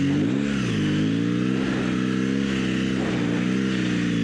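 An adventure motorcycle on Michelin Anakee tires revs through deep sand off-road. The engine note climbs and dips in a steady, fairly close drone with repeated throttle swells and no talk.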